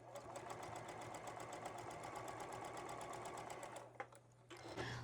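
A sewing machine stitches quilt block fabric in a fast, regular rhythm with a steady hum beneath, then stops near the end with a few handling clicks, all quiet and close.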